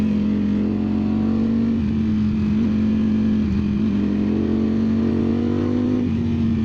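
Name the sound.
Ducati Streetfighter V4S motorcycle riding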